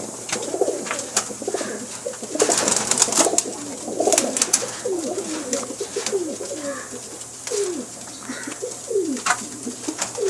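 Banka and Teddy cross pigeons in a Pakistani loft give repeated soft cooing calls, rising and falling in bursts, close by, with occasional brief chirps and rustling throughout.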